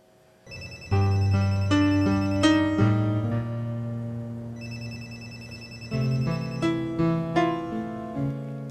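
A phone ringtone plays a melodic electronic tune, ringing twice with a pause between bursts, close and fairly loud.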